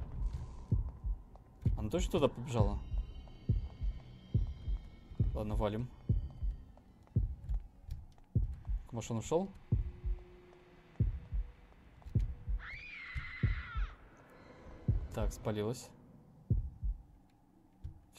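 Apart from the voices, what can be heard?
heartbeat sound effect in the video game Horrorfield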